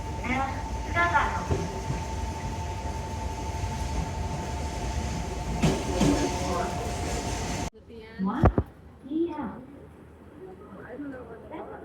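A steady rumbling train ride in Japan hums with a faint tonal whine, then cuts to a quieter interior where voices talk with sharp clacks.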